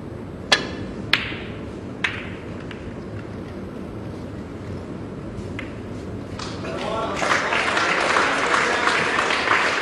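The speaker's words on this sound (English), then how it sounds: "what we heard just now was clap for the adjoining table" Applause rises from a neighbouring table at a 2015 Indian Open snooker quarterfinal, arriving as a steady distant patter in the last few seconds after several sharp isolated clicks and knocks over a low room hum.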